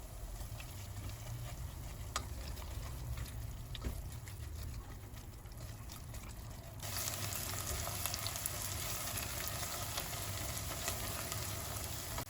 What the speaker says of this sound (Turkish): Salçamızı da soğanımızla beraber kokusu çıkıncaya kadar kavuruyoruz